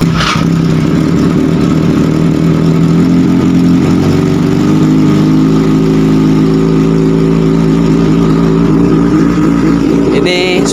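A Kawasaki Ninja ZX-636 motorcycle with an SCL Project Austin Racing exhaust runs loud and close, a steady throaty idle with a slight rise in revs, continuing nearly unbroken before cutting off at the end.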